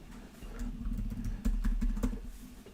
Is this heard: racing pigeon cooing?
no